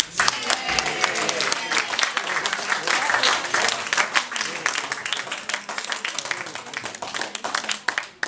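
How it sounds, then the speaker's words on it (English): Wedding guests break into applause after a toast to the couple, a dense, steady wash of clapping from a full room with some voices mixed in, sustained for several seconds. "Give her a big round of applause"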